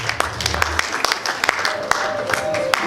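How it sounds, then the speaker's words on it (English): An awards ceremony audience claps in a steady burst of applause, with sharp individual claps over a crowd murmur, and a voice speaks briefly near the end. "Give Incognito a round of applause."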